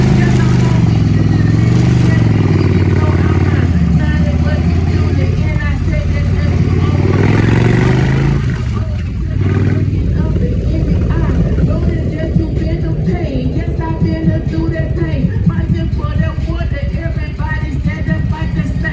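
Yamaha V Star 1100cc cruiser motorcycle riding uphill, its engine rumbling steadily and loudly from the rider's position, with revs shifting midway under heavy wind roar.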